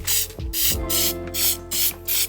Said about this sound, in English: I'm also gonna spray this,